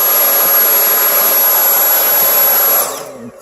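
Dyson V8 Absolute cordless vacuum cleaner running close and loud with a steady high-pitched whine and airy rush, then powering down and fading in the last half second.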